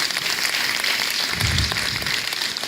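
Audience applause at an Urdu stage play in Atlanta, a steady wash of clapping from a crowd that stays even and fairly loud throughout, with no talk over it.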